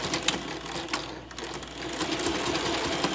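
A sewing machine runs a zigzag stitch along fabric for a mask, its steady mechanical whir continuous and close throughout, with small rhythmic bursts as the needle swings side to side.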